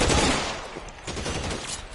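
Sustained game gunfire from LA Noire Remastered on PS5, a dense, loud barrage of overlapping shots with sharp bursts throughout, no voices.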